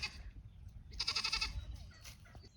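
A mini La Mancha goat, a La Mancha and Nigerian dwarf cross, lets out one nasal, wavering bleat of about half a second, fairly close, amid soft farmyard background noise and a brief higher call afterward.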